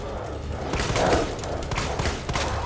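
Gunshots in the survival horror game Resident Evil 2 during a Tyrant encounter: a short, loud burst of close shots over a constant game-audio bed, with no talk.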